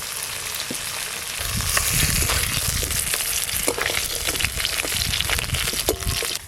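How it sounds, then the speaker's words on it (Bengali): Bhetki (barramundi) fish bones frying in oil in a pan, a steady loud sizzle with crackles and stirring, no talking. "এই মাছের কাঁটাগুলো ভালো করে ভাজা হয়ে গেল।"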